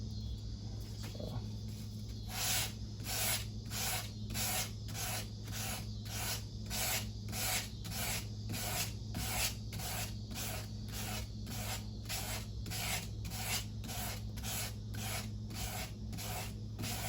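A Bark River Ultra Light Bushcrafter knife blade is stroked across a wet sharpening stone in a steady, even rhythm of rasping passes, about one per second, close up, with a constant low hum underneath.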